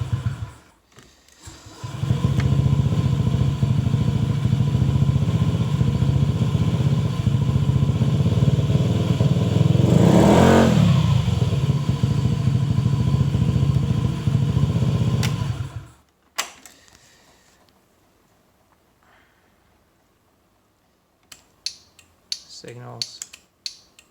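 A Honda Ruckus 49cc scooter engine fitted with a Koso DB-03R gauge revs hard and steadily for about fifteen seconds, loud and close, with a rising and falling pitch in the middle, then cuts off, leaving faint clicks.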